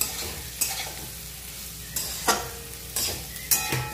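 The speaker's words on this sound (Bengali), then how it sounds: "সবজির সঙ্গে মশলাটা ভালো করে আমি মিশিয়ে নিচ্ছি।" Fried vegetables being tossed with a dry-roasted spice mix in a wok: a soft sizzle broken by several bright scraping strokes of a spatula against the metal, close and unhurried.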